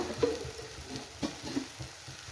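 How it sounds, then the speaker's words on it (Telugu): Gongura sorrel leaves cooking in a pan give a soft, low simmering sizzle with faint irregular pops and light clicks, quiet and close. "గోంగూర ఉడుకుతుంది కదా"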